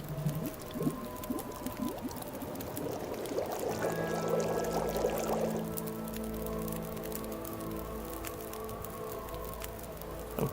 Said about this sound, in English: let's go ahead and boil that water.